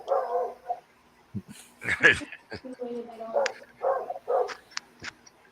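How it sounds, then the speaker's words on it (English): Two rescue dogs bark, yip and whimper in short, varied bursts nearby, scattered across the recording with pauses between outbursts. "Ignore my dogs if you hear them."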